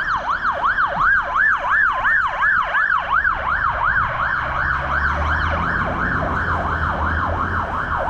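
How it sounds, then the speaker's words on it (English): An emergency vehicle siren wails loudly and close by, a fast repeating up-and-down yelp cycling steadily over faint traffic rumble. "This damn siren."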